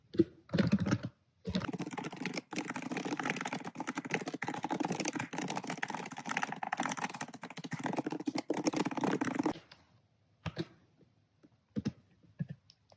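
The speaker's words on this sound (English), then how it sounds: "And here I'm just going to start typing a post." Rapid, steady typing on a computer keyboard, dense clatter of keystrokes for several seconds, then a pause with a few scattered taps.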